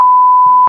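A censor beep covers swearing during an emoji word-guessing challenge: one loud, steady electronic tone that holds for most of a second and cuts off abruptly.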